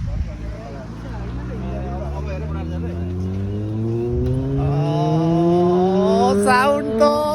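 Motorbikes pass nearby, one engine revving up in a long rising whine that grows louder toward the end, with a brief higher burst at the close.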